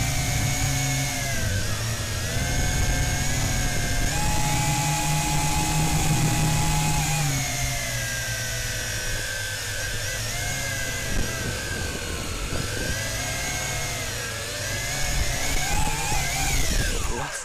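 Tarantula X6 quadcopter drone fitted with 3D-printed landing gear flying and descending for a landing over a baseball field, a loud, steady, high motor whine whose pitch rises and dips as it maneuvers.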